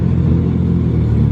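Nissan 300ZX and 240 engines idle and rumble close by, a steady, loud low drone with no break, with a hint of crowd noise around them.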